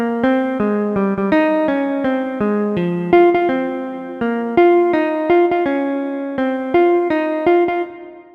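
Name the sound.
retrograde inversion of Happy Birthday melody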